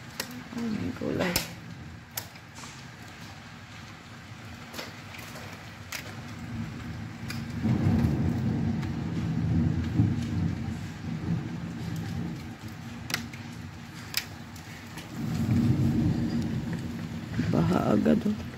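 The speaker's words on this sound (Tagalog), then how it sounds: "Grabe, ang lakas ng ulan ah." Heavy rain pours during a storm in Qatar, a steady broadband hiss with surges of louder downpour, while a voice exclaims intermittently over it.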